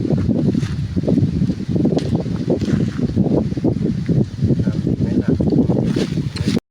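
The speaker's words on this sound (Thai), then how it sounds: "โอ้โห ลม" Strong outdoor wind buffets the microphone in a continuous rough roar with gusty surges, loud and unbroken for nearly seven seconds.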